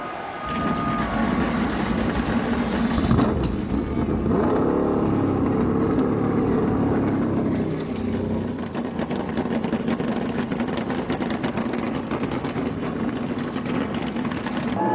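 NASCAR stock car engines fire up and rumble together at Daytona International Speedway before a Duel race, a dense, steady roar of many cars with a brief surge of revving, heard through crowd and broadcast noise.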